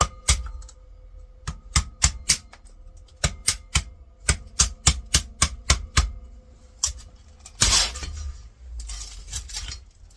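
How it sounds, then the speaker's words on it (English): A sharp crack of breaking glass with a brief shatter as an Apple iMac G3 is taken apart, following a run of small clicking and tapping sounds from clips being loosened. "that sound was the glass breaking"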